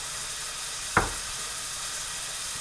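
A tomato sauce base sweats in a pan with a steady, close sizzle, broken once near the middle by a single sharp stir or utensil knock before the hiss carries on.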